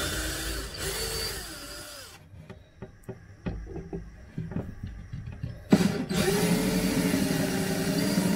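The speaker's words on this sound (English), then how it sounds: "you want to use this drill bit to make pilot holes" A drill whirs through wood making pilot holes in two long bursts, with scattered taps and clicks in the quieter stretch between them.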